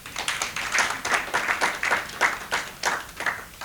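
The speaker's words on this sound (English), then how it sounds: "Clap for Mudavadi Girls." A crowd at a book launch claps in a steady rhythm, about three beats per second, for a local girls' school, with the evenly pulsing clapping close and moderately loud.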